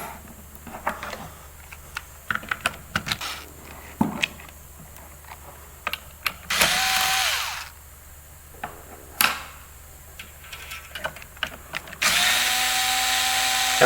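A power drill removes a hex head screw from a battery set in repeated short bursts and clicks, then longer whirring runs of the drill, loud and close, with no speech.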